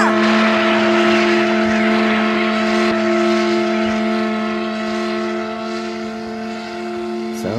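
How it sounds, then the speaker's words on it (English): An old engine, apparently run as a generator, drones steadily with strong, even hum tones and a broad mechanical roar, loud and continuous throughout without pause. "It looks like the engine still works."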